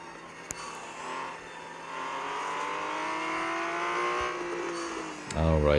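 A Porsche 911 Turbo S race car engine in a racing video game revs up steadily through the gears. The rising, buzzy engine tone holds loud and continuous, then ends in a rougher burst.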